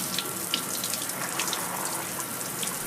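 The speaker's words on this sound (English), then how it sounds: "Everybody that comes in takes a shower." Steady, dense rush of a shower running inside a detector facility, a constant even spray with no voices.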